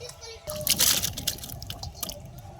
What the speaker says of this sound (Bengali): আমরা এখন কাঁঠালটা সিদ্ধ করার জন্য পাত্রে জলটা ঢেলে দিচ্ছি।